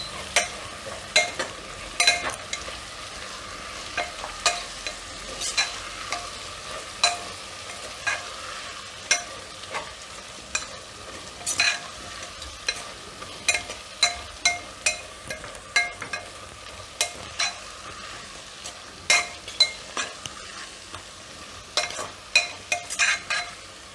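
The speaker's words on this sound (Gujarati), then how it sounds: "થોડીકવાર આ રીતે તેલમાં તેલમાં ચડવા દેવાનો એટલે મસાલો બધો આપણે શાકમાં ચડી જાય" Red chilli paste ground with garlic sizzles in hot oil for a cluster bean and potato curry, a steady close frying hiss broken by frequent sharp clicks and scrapes of a spoon stirring the pan.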